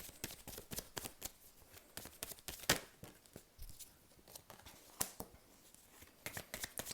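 Oracle of Mirrors cards shuffle close and soft, a steady run of riffling flicks and light snaps with a few sharper taps, quiet in a still room.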